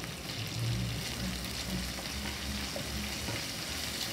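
Curry leaves dropped into hot oil with mustard seeds, a dense steady crackling sizzle filling the pan, close and moderately loud, with faint low background hum and no talking.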